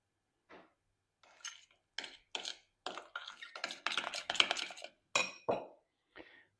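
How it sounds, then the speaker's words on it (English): Egg yolk stirred into a cooled soufflé base in a bowl: a series of close, separate scraping and clinking strokes of a utensil against the bowl, in short irregular bursts with quiet gaps between, and no talking. "I'm going to add the egg yolk and stir that in."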